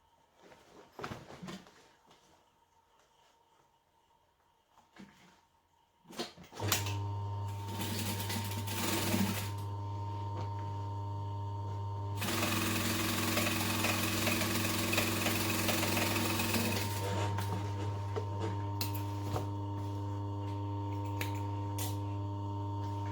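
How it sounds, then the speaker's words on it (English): A sewing machine stitches down the sides of a tote bag, starting after a few quiet handling sounds with a loud, steady mechanical whir that grows busier partway through before continuing evenly to the end. "I'm going to unzip it, tuck the tab out of the way, and sew it down the sides"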